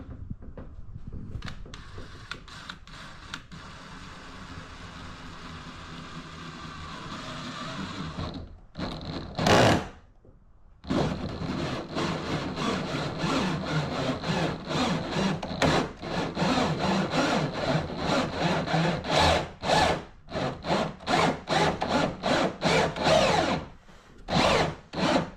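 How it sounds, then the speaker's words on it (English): A power drill bores a hole into a Hobie kayak hull. The motor's loud, grinding whine is sustained, then breaks into a run of stuttering bursts and pauses as the bit works through the plastic. "so I'm going to try to drill my hole there"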